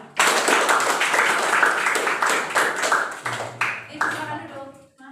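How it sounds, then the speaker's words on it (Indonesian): A classroom of seventh-grade students claps for a group after its presentation, a dense burst of clapping that starts abruptly and fades near the end, with a voice speaking briefly over it. "Tepuk tangan kepada kelompok 2"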